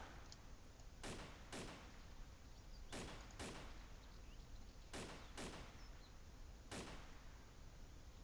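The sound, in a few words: gunfire from a distant gun in the video game DayZ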